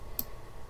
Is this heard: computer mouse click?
yes